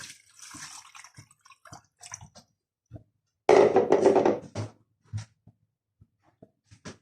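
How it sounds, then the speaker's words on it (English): Three pints of water poured into a soup pot holding chicken stock cubes, a loud rushing pour lasting about a second, surrounded by quieter kitchen clinks and taps. "we're going to put in 3 pints of water"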